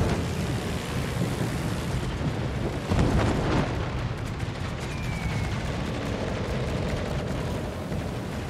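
Flak bursts in the naval combat game World of Warships, heard as a dense, continuous rumble of crackling booms and gunfire with a louder burst cluster near the middle, steady and loud throughout with no talking.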